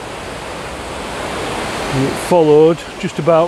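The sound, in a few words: water rushing over a river weir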